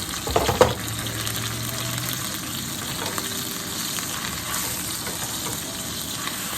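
Onions fry with ginger garlic paste and turmeric in a pan, a steady close sizzle after a brief clatter of stirring at the start, continuing evenly with no talk.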